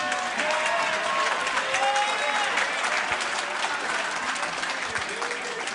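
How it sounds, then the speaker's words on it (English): Applause and cheering from a crowd for the two fighters after a WXC 75 cage fight, steady and loud throughout with an announcer-style arena ambience. "clap your hands for both of the warriors in this cage"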